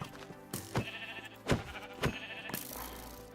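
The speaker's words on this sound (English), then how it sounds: "We have to hit the sheep away from it." Minecraft sheep bleat several times, close and loud, in short wavering cries spaced about half a second apart against a soft game background, with no talking.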